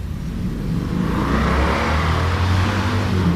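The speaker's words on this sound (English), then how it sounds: "Hear that motorcycle? That ain't a Harley, is it?" A passing motorcycle revs steadily and loudly, its engine drone rising and holding for a few seconds with no talk over it.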